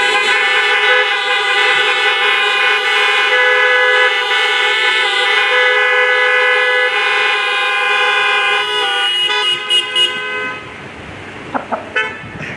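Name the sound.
car horns honking again for graduates at drive-in ceremony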